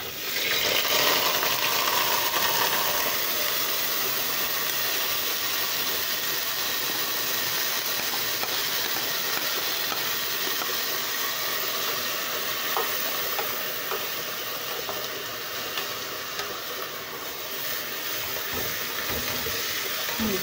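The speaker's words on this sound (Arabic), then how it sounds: "حط الزيت على النار والرز اهو، بسم الله، هحط فيه الرز" Rice sizzles steadily in hot oil in a home kitchen, a loud, even frying hiss that fills the whole stretch with occasional faint stirring clicks and no speech.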